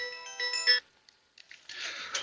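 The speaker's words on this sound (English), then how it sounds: "I'm getting a phone call." An incoming call's ringtone chimes from a phone inside a truck cab, a bright melodic burst, a short pause, then a rougher, noisier tone returning near and fairly loud.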